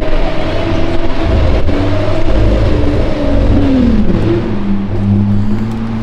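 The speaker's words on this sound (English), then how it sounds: "Oh, his Aventador sounds nice" A Lamborghini Aventador SV engine with an aftermarket exhaust revs and growls loudly, its pitch rising and dipping as it idles and accelerates nearby, a deep throaty exhaust note throughout.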